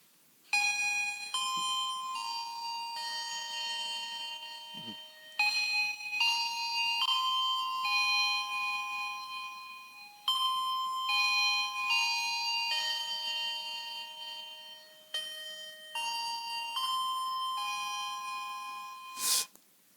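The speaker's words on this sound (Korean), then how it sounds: "이 종소리 들으시면 무슨 생각 나십니까?" A bell rings out a repeating melodic chime tune, like the bell of a passing ice cream truck, in several clear phrases separated by brief pauses, with no talk over it.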